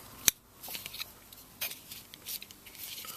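Scissors handled among a pile of hand tools, giving one sharp, crisp snip near the start, followed by faint, scattered little clicks and rustles in an otherwise quiet room.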